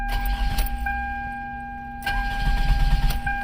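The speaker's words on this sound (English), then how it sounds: "Engine cranks," A 2002 Toyota Camry with a 4-cylinder engine cranks but fails to start, the starter whirring loudly and steadily in two close bursts separated by a short pause, with no catch and no talking.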